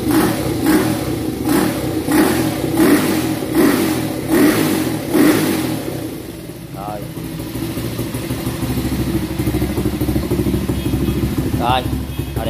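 A Honda CL50 motorcycle fitted with an aftermarket 72 exhaust revs in a series of sharp, loud bursts close by, then settles to a rough idle with a couple of brief blips, while someone talks over it.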